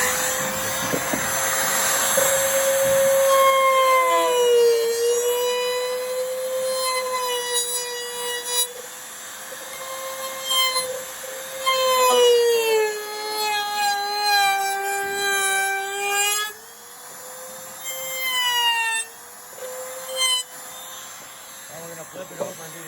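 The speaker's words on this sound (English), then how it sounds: "So if you remember, the rotation of the router bit's going to go this way," Router cutting a wooden window sill, a loud high whine that dips in pitch as the bit bites into the wood and rises between passes, running nearly throughout.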